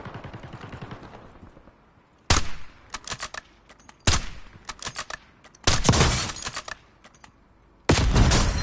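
Loud bursts of automatic gunfire in Call of Duty Warzone Resurgence on Rebirth Island, several separate volleys of rapid shots with short gaps between them, close and dominant.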